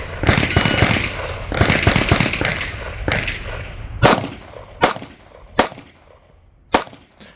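Pistol shots ring out at an IDPA shooting match, first in dense overlapping bursts of loud cracks, then as several single sharp reports spaced about a second apart, close and ringing, with no talking.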